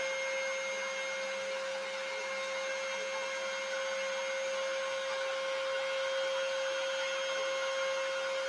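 A CNC machine carves the back of a guitar body with a steady, loud whine and hum that holds constant throughout without a break. No one speaks.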